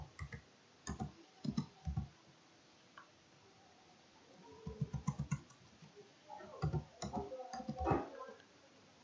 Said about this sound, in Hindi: एंटर दबा करके एक कर्ली ब्रैकेट लेना है और फिर से एंटर दबा करके लिखना है